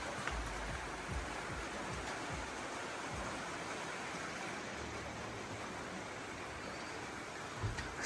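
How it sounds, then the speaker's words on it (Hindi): Steady rain falls in the hills around Jibhi, a dense, even hiss that continues without pause, with faint low thumps now and then and no talk. "बारिश हो रही है, हमें यहाँ से भाग के वहाँ जाना है।"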